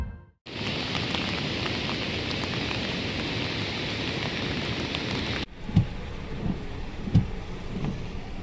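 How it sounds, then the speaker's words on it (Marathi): Heavy monsoon rain pours down in Raigad district, a dense, steady loud hiss that drops to lighter rainfall partway through, with a few low thumps and no talking. "रायगड जिल्ह्यामध्ये काल सायंकाळपासून मुसळधार पावसाने हजेरी लावण्याचे चित्र पाहायला मिळत असून"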